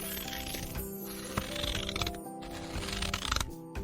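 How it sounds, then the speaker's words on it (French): Cartoon scissors cutting open a sleeping wolf's belly in a French animated Little Red Riding Hood tale: a few crisp metallic snips at an uneven pace over a steady musical backing. "À peine avait-il donné quelques coups de ciseaux"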